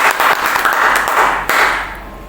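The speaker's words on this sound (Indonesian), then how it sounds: "Beri tepuk tangan dulu pada Pak Sigit." An indoor audience claps for a presenter, dense applause close by that swells, then thins and fades out over about two seconds.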